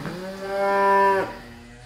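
A single cow moos once, a long, loud, tonal low that swells and then cuts off, close by with quiet surroundings.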